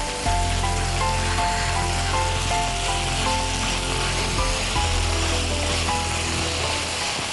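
Drumstick leaves sautéing in ghee in a pan, a steady close sizzle and crackle that runs unbroken throughout with a faint low hum beneath and no talking.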